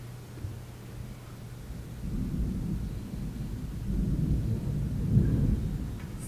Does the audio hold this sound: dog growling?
no